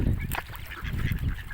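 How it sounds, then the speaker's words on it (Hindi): Ducks squabbling over food in Logroño, Spain, give loud, harsh honking calls up close, a flurry of rough overlapping squawks with bursts of flapping and scuffling. "ये बतख बहुत लड़ाकी है जी इसने आते साथ ही लड़ाइयाँ की हैं उस बड़े के साथ"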